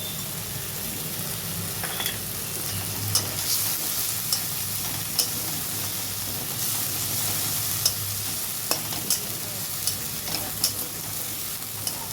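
Ground amla paste frying in a pan for a Bengali amla curry, giving a steady broadband sizzle with stirring scrapes throughout and occasional sharp ticks and crackles.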